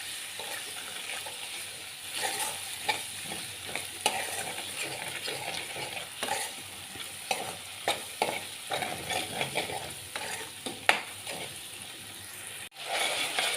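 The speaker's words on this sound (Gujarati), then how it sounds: "પછી બધું સરસ મજાનું સાતળી લઈશું" Salt, turmeric, dried spices and coriander sautéing in oil for a Kathiyawadi-style dal, a steady close sizzle with irregular scrapes and taps of a spoon stirring through the pan.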